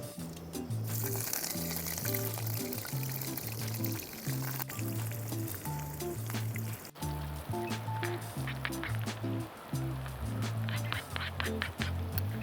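Oil pours into a pan for an egg curry, a running liquid sound steady under a prominent rhythmic musical background.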